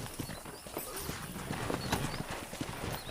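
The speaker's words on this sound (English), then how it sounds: "ranch hand said there's a pack of wild horses nearby" Horse hooves clip-clop in a steady trotting rhythm in the Red Dead Redemption video game, close and continuous with game ambience underneath and no talking.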